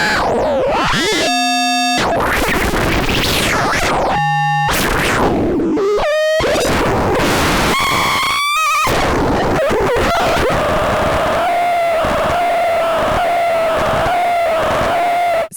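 Harsh, shifting electronic tones from synthesizer oscillator cross-modulation, with abrupt jumps between buzzy, metallic textures, ending in a sustained steady drone; loud and alone with no talking.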